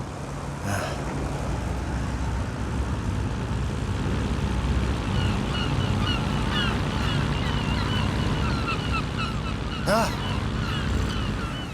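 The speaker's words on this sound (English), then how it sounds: "Birds." Chirping bird calls scattered over a steady low rumble of an airplane engine and wind during a solo Atlantic flight, with a couple of brief louder sweeps.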